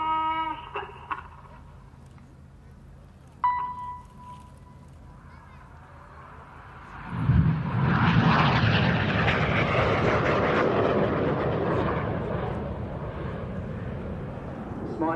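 A Red Arrows RAF jet pitching down into a display manoeuvre at the RIAT 2012 airshow, a rising roar that swells to a loud, sustained broadband rush overhead after quieter crowd ambience at the start.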